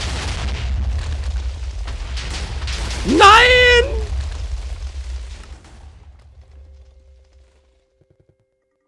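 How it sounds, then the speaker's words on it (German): A Minecraft TNT explosion booms with a low, rumbling blast while someone shouts out in alarm over it, the rumble fading away into silence afterward. "Wir haben einen TNT direkt abgekriegt."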